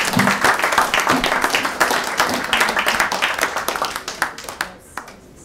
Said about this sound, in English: say thank you if you want to give them a round of applause